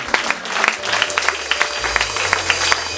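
Congregation applauding at a temple dedication service, a dense wash of clapping hands filling the space steadily throughout, fairly loud and close, with no voices over it.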